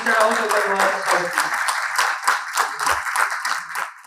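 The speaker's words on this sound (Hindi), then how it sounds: "जोरदार तालियों के साथ Mr. Rahul Kogatwal." An audience claps to welcome a speaker onto the stage, a dense stretch of rapid clapping that tapers slightly toward the end, with talking at the start.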